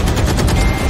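Rapid bursts of enemy gunfire in a Vietnamese team shooter game, dense and loud, a continuous clatter of shots filling the moment with no talk over it.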